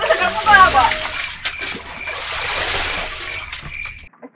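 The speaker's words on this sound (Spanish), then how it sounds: "vamos a intentar sacar un poco de agua" Water sloshing and splashing as it is scooped out of a flooded box with a tube, close and fairly loud, with a few drips and trickles toward the end and a voice faint underneath.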